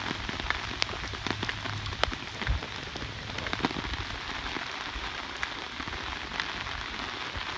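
Light rain falling in a back yard in Sugar Hill, Georgia, a steady patter of drops hitting surfaces with occasional sharper nearby splats, continuous and unhurried, no voices.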